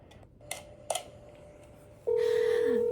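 Telephone keypad dialing tones: a few faint clicks and beeps, then a loud steady tone that holds before sliding downward, heard alone without talk.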